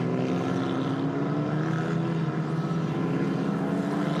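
Formula 4 race cars lap the Nürburgring, making a continuous, loud, droning engine whine that rises slowly in pitch, with no talking over it.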